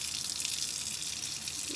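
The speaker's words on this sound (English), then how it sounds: "Sorry if you can't hear me with the water running." Tap water runs steadily into a sink during soap lather testing, a constant bright rushing hiss with no breaks, close and alone.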